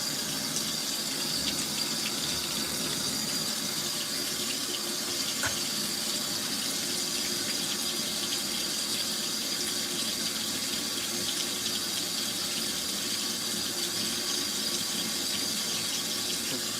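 Hot water rushes steadily into an LG ThinQ MEGA Ultimate washer filling for a hot whites cycle with bedding, a continuous close hiss and gush of running water throughout with no talk.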